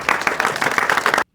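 Crowd applauding at a political event, loud dense clapping close up that cuts off abruptly after about a second.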